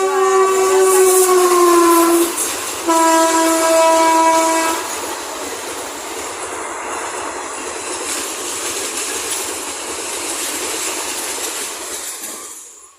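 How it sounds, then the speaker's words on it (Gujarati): A train sounds its loud horn twice, then rumbles and clatters past steadily before fading out at the end. "મેં તમને કીધું હતું ને રેલગાડી પણ નીકળે છે"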